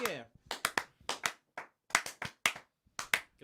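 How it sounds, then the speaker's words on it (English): A few hands clapping in short uneven bursts on a sports radio show, close and fairly quiet, with a voice briefly heard at the start. "Give a round of applause."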